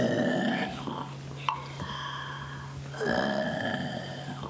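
Children use objects to mimic a mean wolf's loud snoring, producing a few rough, rasping, grunting bursts separated by short pauses, each swelling and fading at moderate volume.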